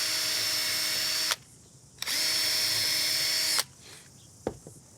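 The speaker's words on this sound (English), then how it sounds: "Now, let's just pre-drill our ends." A power drill pre-drills the ends of timber rails for a wooden gate, running in two loud, steady whines of about a second or two each, separated by short pauses, followed by a couple of faint knocks.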